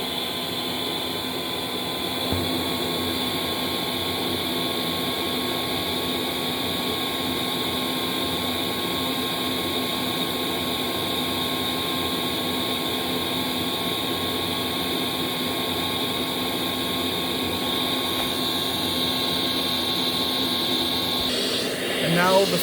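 Shark NV752 upright vacuum cleaner running continuously, a loud steady motor whine with a high tonal hum, close and unbroken for the whole stretch, shifting slightly near the end.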